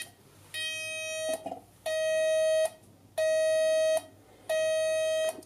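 A homemade multivibrator oscillator circuit driving a loudspeaker sounds an alarm: four steady, shrill electronic beeps, each under a second long and separated by short gaps, close and clear with no talking.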